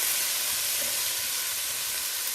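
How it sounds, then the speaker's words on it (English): Butternut squash pieces sautéing in a pan, browning at the edges: a steady, bright sizzle and hiss that holds evenly throughout, close and without talk. "So we're going to continue sauteing these."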